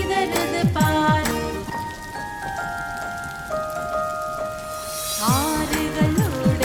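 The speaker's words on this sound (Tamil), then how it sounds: "மழை துளி பெய்யுது தட தட தட நீலத்தில் விழுந்து சிதறுது பார்." Raindrops patter steadily as a continuous wash, mixed with a bright melodic tune of sustained and plucked tones that drops out midway and returns near the end.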